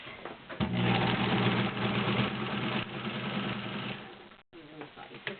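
A vintage Kenmore model 1803 sewing machine with a size 16 needle stitches through five layers of Levi's denim, a loud, steady mechanical whir running almost continuously with a brief pause before starting again.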